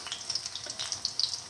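Tomato, fenugreek leaf and chickpea fritters fry in a pan of oil, giving a quiet, continuous sizzle dotted with small crackles and pops, close by and alone.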